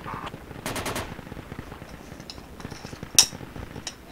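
Gunfire in a tactical squad shooter video game: a quick rattling burst of automatic shots near the start, then scattered single cracks and one sharp loud shot, against a low busy background.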